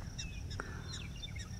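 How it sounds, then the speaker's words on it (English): Prairie dogs chirping across open grassland in Custer State Park, a few short high chirps scattered over a low outdoor hum, faint and distant. "Can you guys hear the prairie dogs chirping?"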